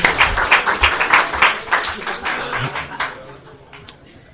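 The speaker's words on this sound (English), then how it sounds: "So let's give them a round of applause." An audience at a twelve-step recovery talk breaks into brisk, close clapping that holds strong for a few seconds, then thins out and trails off into scattered last claps.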